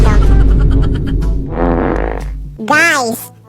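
A loud, long, rumbling fart in a classroom, followed by brief talk and a rising, wavering vocal reaction.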